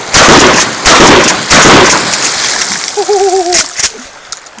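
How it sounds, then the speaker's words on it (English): Gunshots fired at night ring out in a loud, close series of sharp blasts, several in the first two seconds and more later, with a short voice and scattered clicks between them. "We're shooting."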